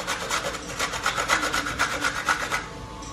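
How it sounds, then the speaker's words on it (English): Rapid rhythmic grating strokes scrape an ingredient over a grater for a mixed seafood stir fry, close and crisp, about a dozen quick passes before stopping. "Just grate little bit of that inside"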